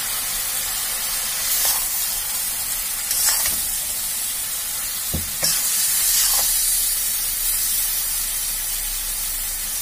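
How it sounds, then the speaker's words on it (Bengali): Tomato and mustard paste in a pan of greens are stirred over heat, a constant close sizzle with several sharp scraping strokes of the spoon spaced a couple of seconds apart. "দিয়ে ভালো করে এটা নাড়াচাড়া করে নেব"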